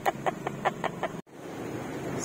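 A chicken clucks in a quick, rhythmic series of about six short, moderately faint clucks outdoors, followed by a steady background wash.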